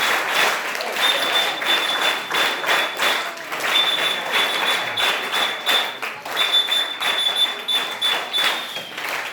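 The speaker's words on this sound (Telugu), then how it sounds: "గట్టిగా చప్పట్లు కొట్టండి, గట్టిగా" A school Republic Day gathering answers with loud, sustained crowd clapping that runs steadily throughout, dense and continuous with no pauses.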